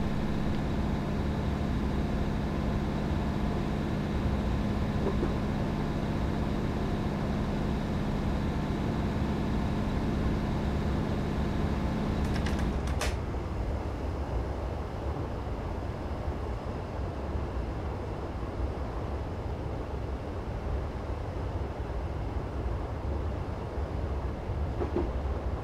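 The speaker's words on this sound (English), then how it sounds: "I'm going to idle the power and allow the train to coast until the next signal is in sight" A Class 156 diesel unit coasts on the track in Train Simulator 2015. An idling engine drone with steady tones cuts out partway through, leaving the continuous rumble and rattle of wheels rolling on rails.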